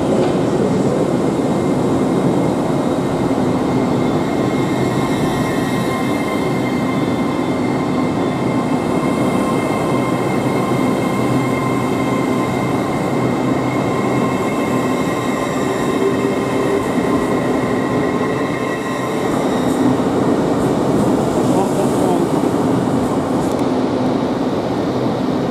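An LNER Azuma Class 801 train pulls out of London King's Cross bound for York, giving a steady loud rumble of wheels and motors that runs unbroken for the whole span, with faint rail squeal and no talk.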